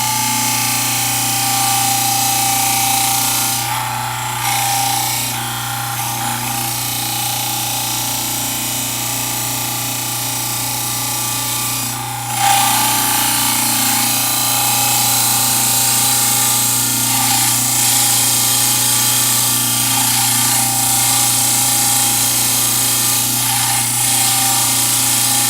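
A power tool trimming excess plastic off the edges of a formed model for bleach trays, a continuous high whining grind with a steady motor hum and brief dips where the cut changes.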